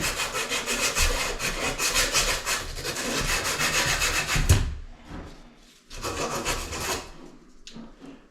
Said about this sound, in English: Take a piece of sandpaper, wrap it around the pipe. Sand it off really nice and good.